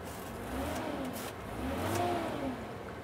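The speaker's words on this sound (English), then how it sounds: "If we start the tractor up here," A methane-powered New Holland tractor engine turns over and catches, settling into a low rumbling run with a slight rise in revs, heard up close.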